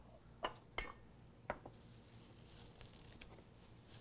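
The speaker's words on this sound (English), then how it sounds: "Just want to mix it around and do what's called sweating" A utensil stirs vegetables sweating in a cooking pan, giving a few sharp clinks against the metal over a quiet background with a faint sizzle.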